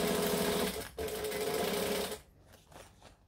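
Sewing machine backstitching a bowler bag, a loud rapid mechanical rattle running about two seconds with a brief pause, then stopping into quiet handling noises.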